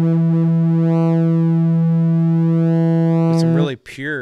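Synthesized waveform tone from the auGenX synth app sampled in Beatmaker 3, a steady harmonic-rich buzzing drone held at one pitch, with its upper partials sweeping as the timbre shifts before it cuts off abruptly near the end.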